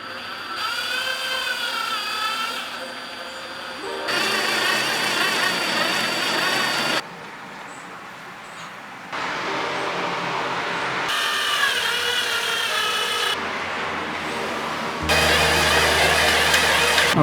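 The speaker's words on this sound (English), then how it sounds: "I managed to drill 3 holes on the side of this desk" A power drill whirs in repeated bursts, its pitch rising and falling as it bores holes into the side of a wooden desk, with short pauses between runs.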